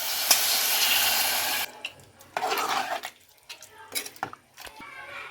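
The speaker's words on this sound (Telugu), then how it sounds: "ఇప్పుడు వాటర్ పోసేస్తా" Water poured into a pot of chicken curry, a steady splashing pour that cuts off abruptly, followed by scattered clinks and small handling knocks.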